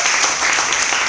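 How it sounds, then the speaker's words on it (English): A brief burst of audience applause at a startup demo day pitch event, steady clapping from a crowd heard close and loud for about a second. "please give a loud round of applause for Skria"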